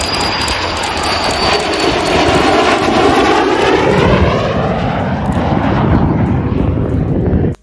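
A military A-4 Skyhawk jet passes at Tulsa International Airport, a loud roaring whoosh with sweeping, shifting tones as it goes by close, holding strong for about seven seconds before cutting off abruptly.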